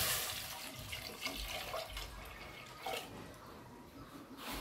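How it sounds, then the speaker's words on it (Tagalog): Water is poured into a cooking pot holding squash and taro, a steady close splashing stream that surges a few times, with faint kitchen clatter and no talking. "Lagyan natin ng tubig."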